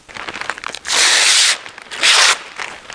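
Protective film is peeled off the windshield of a Honda Talon in two long, loud tearing rips, separated by quieter crinkling and handling noises.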